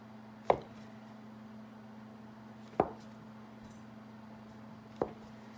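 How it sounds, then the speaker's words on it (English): A knife pressing down through soft scone dough on a board, three sharp separate chops spaced about two seconds apart, close and clear over a low steady hum, no talk. "we're going to go one cut, one length of the knife, and then you're going to cross cut"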